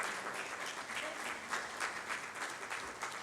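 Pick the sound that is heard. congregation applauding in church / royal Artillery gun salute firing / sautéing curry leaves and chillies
congregation applauding in church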